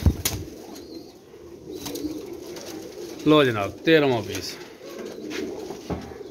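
A bateri pigeon, one of several in a Jhelum seller's loft, gives two loud, close cooing calls in quick succession, with wing flapping and someone speaking briefly before and around them.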